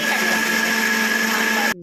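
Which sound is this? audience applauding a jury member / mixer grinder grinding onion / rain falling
mixer grinder grinding onion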